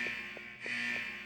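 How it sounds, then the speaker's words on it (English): Ship alarm from the video game Parasite Eve: a loud, steady electronic tone with a high whine and a pulsing low beep repeating about every 0.3 seconds, briefly dipping midway before resuming. "Yeah, that alarm is loud"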